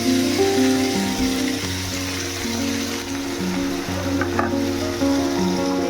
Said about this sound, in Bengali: এবারে আমি চিকেনটা দিয়ে দিলাম।